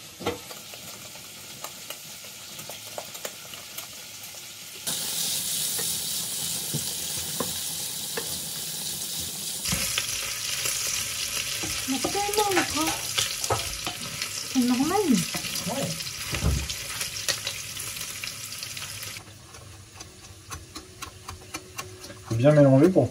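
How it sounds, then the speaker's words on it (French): Carbonara sauce of eggs and pasta being stirred in a pan, with steady sizzling and repeated scraping stirs that grow busier midway, and a voice briefly heard near the end. "Bien mélanger pour pas que les œufs ils deviennent durs quoi."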